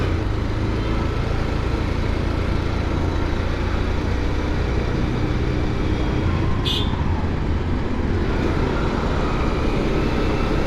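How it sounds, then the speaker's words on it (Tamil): Heavy road traffic on a Chennai street, a steady dense roar of engines and tyres with a brief higher hiss near the middle, continuous and fairly close throughout. "சரியான டிராஃபிக்காக இருக்குது."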